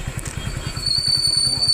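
Motorcycle on a village road carrying riders, its engine a steady low putter with rhythmic pulsing, close and continuous throughout, with a voice talking over it.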